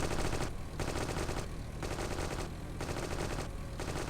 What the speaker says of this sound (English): trying to not get absolutely wrecked by the guy with the machine gun